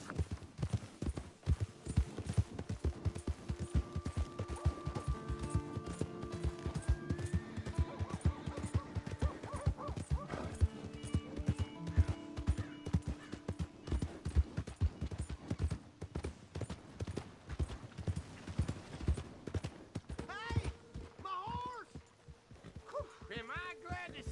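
Steady rhythmic hoofbeats of a galloping horse in Red Dead Redemption 2 pound on continuously, mixed with a game-style music bed, loud and close throughout.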